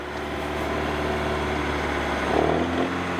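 An old, rusty car with a 2.0 SI engine runs at a steady idle, its low, continuous rumble loud and close throughout, with a brief rise in revs near the end.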